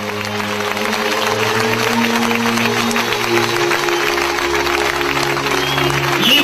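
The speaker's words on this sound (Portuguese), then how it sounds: "Let us first clap to the Lord" A church congregation claps to the Lord at a large service, a steady broadband wash of hands under sustained music or organ-like tones, loud and continuous throughout.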